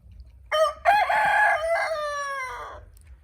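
A rooster on a Punjab desi chicken farm keeping Rhode Island Red birds lets out a single loud, close cock-a-doodle-doo lasting a few seconds over faint farm background noise.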